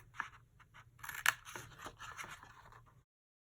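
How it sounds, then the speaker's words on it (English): Scissors cutting paper along score lines for a craft treasure chest, a series of quiet snipping and scraping sounds, close and faint, without talk. "now we're going to cut up each one of these score lines"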